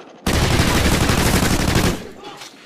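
A fast burst of automatic gunfire in the video game Call of Duty Ghosts, loud and close, lasting under two seconds before cutting to a quieter tail.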